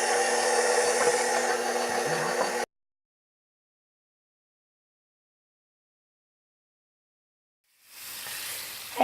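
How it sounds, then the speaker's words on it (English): Hot butter sizzles in a skillet for a couple of seconds, then cuts out into silence before the hiss fades back in near the end. "I got me some good hot butter in this skillet"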